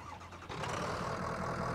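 A snow plow's engine cranks and catches, the sound jumping to a steady, loud running rumble after about half a second, with no talk over it.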